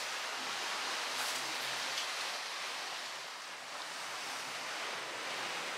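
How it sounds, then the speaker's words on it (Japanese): Open ocean heard from the deck of the Diamond Princess cruise ship at sea, a continuous broad wash of waves and wind rushing steadily, with a slight dip midway. "右を見れば大海原でございます。"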